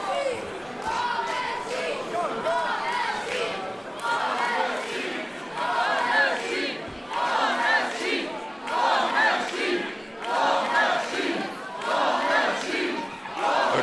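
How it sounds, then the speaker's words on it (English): A wrestling crowd at a GWF Global Warning 2023 show roars and chants in rolling surges that swell and fade every second or two, loud and sustained throughout, with announcer commentary over it. "The crowd utterly absorbed in this one, Vecchio and Klinger."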